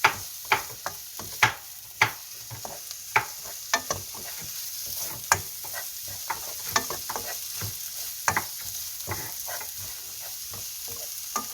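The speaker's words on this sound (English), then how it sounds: "Let me do the stirring while he's cutting." A spoon or spatula stirs soft tofu stew (sundubu jjigae) in a pot with quick, irregular scraping knocks over a steady bubbling sizzle, close and moderately quiet.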